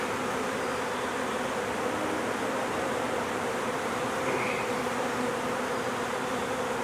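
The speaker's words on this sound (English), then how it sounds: "That's a heavy frame of bees right here." Dense, steady buzzing of many honeybees on a hive frame close by, a continuous droning hum that fills the whole clip without pause.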